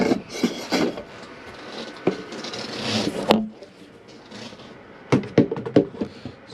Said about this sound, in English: Turn the table on its side and then tighten it back up behind the passenger seat.